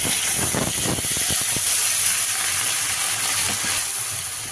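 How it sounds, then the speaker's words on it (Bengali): Water poured into a pan of hot, separately fried aubergine and potato curry, sending up a loud, steady steaming hiss that fills the whole stretch, with a few low bubbling clatters near the start. "এবার দিয়ে দেবো জল।"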